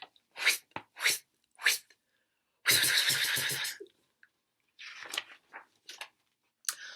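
A voice imitates a rotating sprinkler with rapid sputtering, spitting bursts, a few short puffs then a longer rattling stretch, followed by more choppy bursts.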